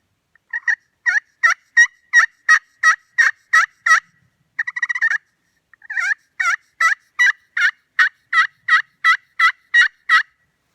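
A run of turkey yelps struck on a slate pot call with a striker, loud and close: a steady series of sharp rising-falling notes, a brief scratchy break, then another long evenly spaced string of yelps.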